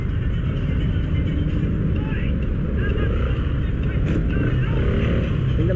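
A motorcycle rides through congested Mandaluyong city traffic, its engine droning steadily and close with constant road and wind noise, while a rider's voice is faintly heard over it.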